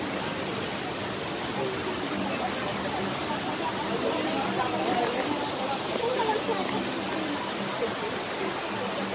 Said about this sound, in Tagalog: Yan po ang hidden falls mga kapatid.